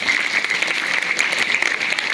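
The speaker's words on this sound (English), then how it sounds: "Give clap for yourself." Applause from a school audience at an Ambedkar Jayanti assembly, a steady dense patter of many hands clapping continuously at moderate loudness, with no voices over it.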